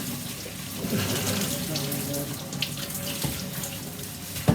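Tap water runs steadily into a sink while hair is being rinsed during a highlighting session, a constant close splashing hiss with a few louder splashes and some faint talk in the background.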